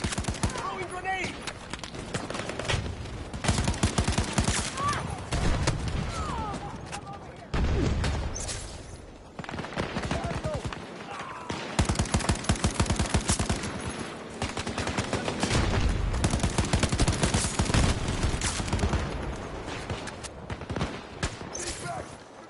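Dense video-game gunfire from Battlefield 2042, with sustained bursts of automatic weapons and scattered shots running almost continuously, loud and close, with players talking over the firefight throughout.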